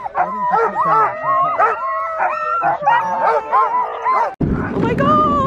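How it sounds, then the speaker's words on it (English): A litter of puppies yips, howls and whimpers up close in a steady overlapping chorus, with a brief noisy rustle near the end. "Look at all the puppies."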